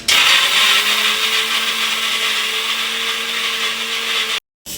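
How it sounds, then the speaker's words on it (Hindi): A mixer grinder grinding roasted spices runs loudly and steadily for a few seconds, its whirring motor whine holding a constant pitch, then stops abruptly. "अब इसको मिक्सी में पीस लेंगे ऐसे"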